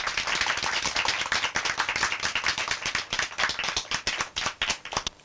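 A theatre audience breaks into sustained ovation, dense clapping filling the whole stretch and thinning slightly toward the end, loud and close with no voices over it.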